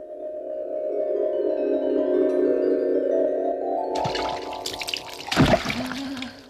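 Water is poured into a vessel for a bath, a gurgling stream whose tone climbs steadily as it fills, then breaks into a brief splashy burst near the end.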